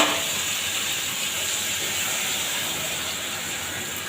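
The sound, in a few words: mustard, cumin and chili paste added to frying potatoes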